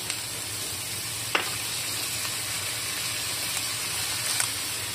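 Chicken sizzles steadily in a hot pan as soy sauce is poured in for Filipino chicken pastil, a continuous close frying hiss with a few small clicks and spatters, no talk.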